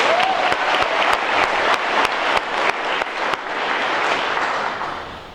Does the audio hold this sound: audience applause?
yes